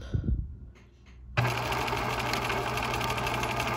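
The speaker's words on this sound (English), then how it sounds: "So I'm going to start sewing so you can see that." A sewing machine runs steadily, stitching fabric pieces together, its motor hum starting abruptly after a moment of quiet handling noises and continuing loud and even to the end.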